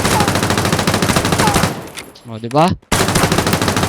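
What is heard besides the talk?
rapid-fire gunshots from the video game Knives Out, dual TMP macro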